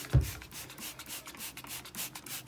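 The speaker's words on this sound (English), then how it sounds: "use I'd say a moderate stiff brush. It's enough to scrub the carpet real good" A moderately stiff brush scrubs cleaner into boat carpet in quick back-and-forth strokes, a close, rhythmic rasping that stays fairly quiet.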